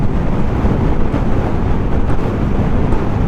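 Strong wind buffets the microphone in a continuous loud roar, with no pause from start to finish, while riding a Yamaha Mio Sporty scooter in the mountains of Nasugbu, Batangas.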